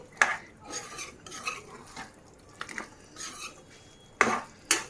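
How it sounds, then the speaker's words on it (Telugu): A spoon stirring mutton and drumstick curry in a pot, with scattered metallic scrapes and clanks against the pot sides at irregular intervals, close and clear, no one talking. "బాగా కలుపుకోవాలి."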